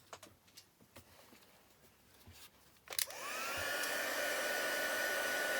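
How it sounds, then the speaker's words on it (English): A heat gun melts white embossing powder on a handmade card: faint tapping and handling noises come first, then a click and the blower starts with a loud, steady roaring hiss that stays close and continuous. "it's going to be a bit noisy while I use my heat gun"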